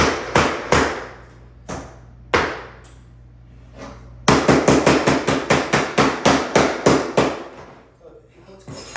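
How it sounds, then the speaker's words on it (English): Hammering while laying laminate flooring: sharp repeated blows, a few spaced strikes first, then a rapid steady run of loud close knocks that gradually eases off. "I don't think my camera lady's loving all the hammering that I'm doing."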